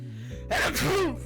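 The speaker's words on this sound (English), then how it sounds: "I'm gonna sneeze." A single sneeze, preceded by a short sharp intake of breath, then the burst of the sneeze itself, close and fairly loud.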